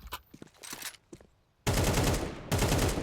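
Rapid automatic AK rifle fire in Counter-Strike 2 erupts in a loud, sustained burst after a short stretch of quieter shuffling sounds, with the shooting continuing steadily to the end.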